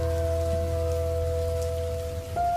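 Steady nighttime rain in a Bengali horror cartoon, a continuous even wash of falling drops with a low droning hum underneath and no voices.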